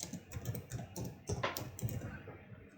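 Close, brisk typing on a computer keyboard, a quick irregular run of soft clicks with a few harder key strikes, with no voices.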